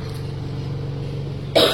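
A single short cough bursts out close by at the very end, after a stretch of quiet indoor hum with a faint engine-like drone in the background.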